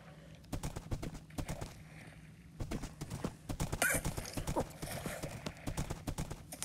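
Horse hooves clip-clop steadily in a Minecraft survival game, a brisk, even rhythm of close, clear hoofbeats, with a brief whinny-like cry partway through.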